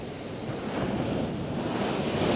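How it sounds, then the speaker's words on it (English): Rough sea waves washing onto a Merseyside beach, a continuous close surf roar mixed with buffeting wind noise on the microphone, with no speech. "Now the water's a bit rough here today."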